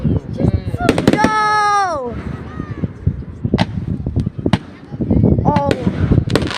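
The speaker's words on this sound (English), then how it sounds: "Look at all those fireworks!" Fireworks burst at a Pounawea outdoor display: whistling rockets rise with sliding shrieks, followed by scattered sharp cracks and pops, near and loud, while excited voices shout over them.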